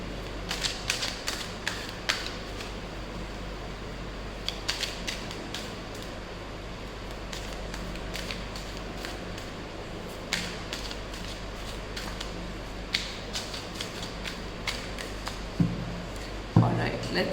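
Crisp riffling and flicking of tarot cards shuffled repeatedly in bursts, close up, with a steady low hum in the background.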